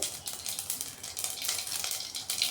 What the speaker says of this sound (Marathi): तेल गरम झाले की त्यामध्ये मोहरी टाकलेली आहे फोडणीसाठी